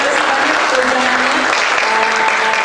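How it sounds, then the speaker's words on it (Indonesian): Audience at a youth pledge day discussion gives sustained applause, a dense, even clatter of many hands heard loudly, with faint voices mixed in underneath. "Kita tepuk tangan dulu Bang."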